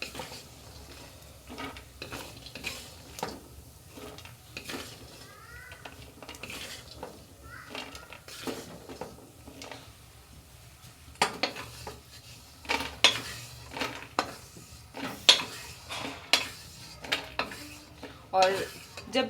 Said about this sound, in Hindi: दूसरी चीज़, दूसरी मेवा को भूनेंगे डाल के